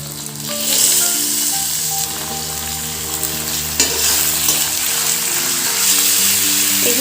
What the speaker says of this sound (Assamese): এতিয়া মই মাংসখিনি দি দিছোঁ